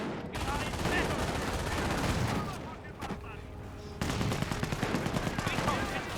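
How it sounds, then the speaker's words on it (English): Rifle grenades and small arms firing in the World War II strategy game Company of Heroes: dense, crackling bursts of gunfire with sharp reports, a brief lull midway, then renewed rapid shooting. "Rifle grenades pushing the way forward."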